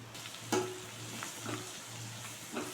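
Chili powder, coriander powder and turmeric are stirred into a chana dal and coconut curry in a pan. A steady soft sizzle runs throughout, broken by a few light scraping stirs, with a low hum underneath.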